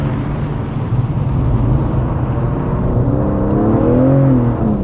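A BMW M3's engine drones loud and steady while driving, its note climbing in pitch toward the end as the car pulls harder, with no voices over it.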